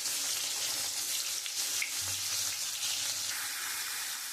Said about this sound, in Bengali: এবার আমি লাল লাল করে ভেজে নেব